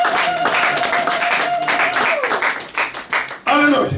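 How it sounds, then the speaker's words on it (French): A church congregation claps together at a worship service, a dense wash of hand claps running under a sustained keyboard tone, then thinning into a few scattered bursts before a loud final swell. "Applaudissons pour le Seigneur."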